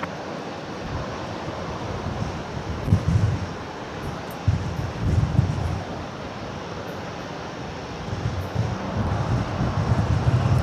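A Jetstar passenger jet taxiing at Brisbane Airport gives a steady, broad low rumble with some surging swells, heard at a distance through wind buffeting on the microphone.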